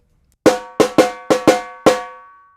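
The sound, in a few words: samba leader playing the call pattern on a drum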